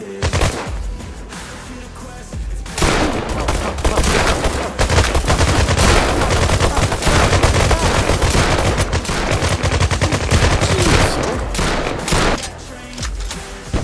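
Rapid automatic gunfire in the shooter game Forged by Volt Inu, dense bursts of loud shots firing almost continuously for several seconds after a quieter opening, with a brief lull near the end.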